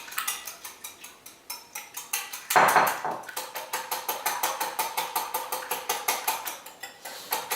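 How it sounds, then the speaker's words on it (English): Eggs being beaten in a bowl for a Nutella pastry, a quick, steady rhythm of whisk strokes clicking against the bowl with one louder clatter partway through and no talking. "Then you start beating those eggs."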